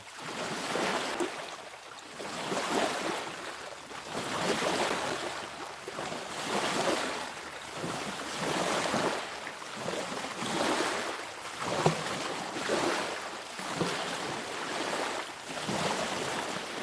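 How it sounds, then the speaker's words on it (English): Loud waves washing in steadily on Dale Hollow Lake during carp fishing, a continuous rolling surge with rhythmic swells and some wind buffeting the microphone, no voices. "How loud are those waves on the screen? They're pretty loud coming through there."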